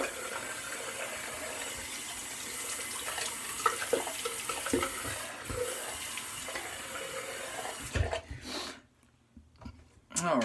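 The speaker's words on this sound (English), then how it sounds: "cold water rinse" A tap runs steadily for a cold water rinse, a broad hiss with clatter and some voice mixed in, before the flow cuts off near the end.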